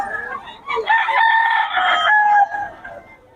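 A young stag rooster, a WPC banded gamefowl, crowing one loud close call that rises and holds before tapering off, with a brief cluck before it.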